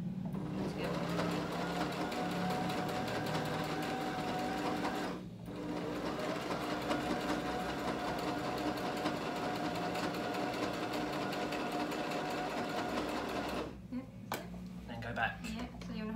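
A sewing machine runs steadily in a fast, close mechanical whir while backstitching, with one brief pause before resuming, then stops as people talk quietly near the end.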